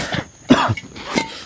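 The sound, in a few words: cough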